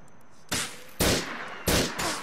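Gunfire in the video game GTA IV, four sharp loud shots at uneven intervals, each with a short echoing decay, over a steady background hum.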